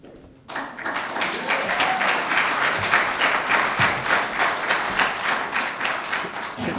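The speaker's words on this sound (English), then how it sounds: "Could you kind of hold your applause?" Audience applause fills a school board business meeting, starting abruptly after a brief quiet moment and holding as steady, dense clapping from many hands in an indoor room.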